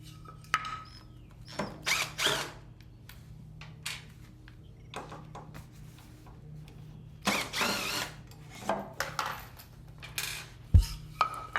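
Metal T-nuts being driven with a T-nut tool into a Spartan 48-inch zero turn mower deck, heard as a series of sharp, irregular taps and clanks with brief tool bursts, close and fairly loud against a quiet background.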